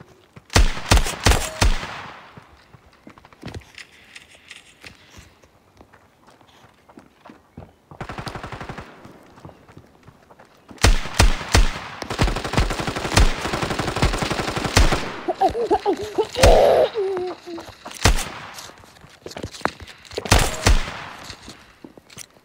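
Gunfire in a first-person shooter game, including a shotgun: loud bursts of rapid shots in several clusters separated by quieter gaps, with no speech over them.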